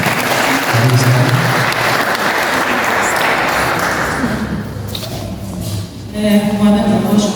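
Audience at a gathering clapping together, a dense sustained burst of applause for several seconds while a voice speaks over it and more talk follows as the clapping thins out.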